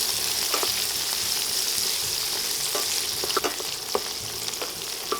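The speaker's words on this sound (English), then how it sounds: "Gonna let this go just a little bit just to deglaze and get those tomatoes softened up." Tomatoes sizzle and crackle in hot olive oil in a pan, a steady close frying hiss with scattered pops and a few stirring clicks, no voices.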